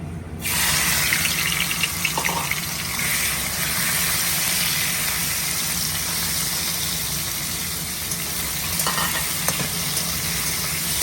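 Shrimp rubbed with salt and turmeric fry in hot oil, a loud, dense, continuous sizzle running throughout with occasional faint stirring taps and no talk.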